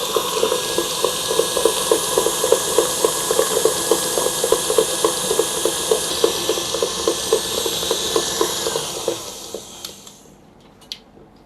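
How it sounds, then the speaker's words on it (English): A stand mixer with a paddle attachment beats buttercream, giving a steady whirring drone with a regular rhythmic slap of the paddle throughout, then winding down and stopping near the end. "put it back along with the paddle attachment itself and then continue beating"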